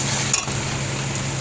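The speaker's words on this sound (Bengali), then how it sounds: "2 চামচ আদা রসুনের পেস্ট দিলাম। এবারে এটাকে আরও কিছুক্ষণ কষাতে হবে।" Ginger garlic paste sautéing in a pan makes a steady, close sizzle lasting the whole moment, with a faint stir near the start.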